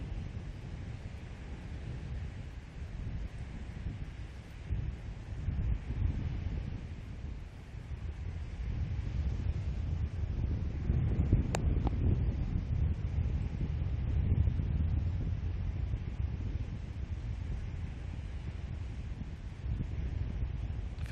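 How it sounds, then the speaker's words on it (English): Strong wind at Tauranga Harbour buffeting a microphone: a constant low roaring rumble that swells louder in the second half, with no voices. "I feel like the wind is getting worse as we go"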